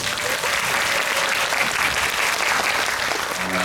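A seated audience at a film talk event claps in a sustained, full round of applause, loud and steady throughout with no talking over it.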